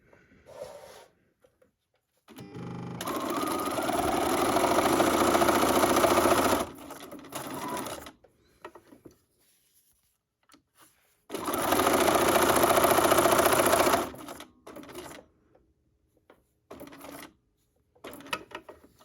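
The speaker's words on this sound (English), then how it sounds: "we're just going to do a plain straight stitch" A sewing machine straight-stitching through book pages, two long bursts of steady, loud mechanical whirring separated by quiet pauses and small handling clicks.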